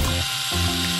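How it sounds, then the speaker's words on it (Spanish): A power drill drives screws through thin sheets while building a small cat house under a bed, giving a loud, continuous ratcheting mechanical whir that pauses briefly and then resumes. "Ponemos los clavos en la lámina y los atornillamos con el taladro."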